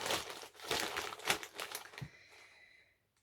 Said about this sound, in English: apologies for the rustling